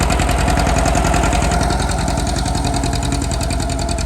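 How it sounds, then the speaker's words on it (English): A John Deere 630 tractor engine runs steadily while pulling a 3-bottom plow at a plow day, a loud, continuous mid-pitched chugging with a rapid regular knocking pulse and no voices. "John Deere 630."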